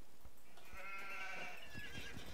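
Sheep bleating in the strategy video game Age of Empires, a single faint, wavering bleat rising in the middle, set against quiet background game ambience.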